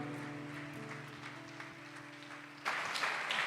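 During a church service, sustained music plays quietly at first. A congregation's applause then swells up abruptly near the end, faint and somewhat distant.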